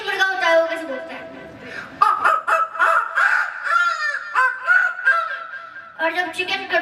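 At a 25th wedding anniversary celebration, a person vocally imitates a Chinese rooster crowing, producing several loud, close, drawn-out honking calls in quick succession.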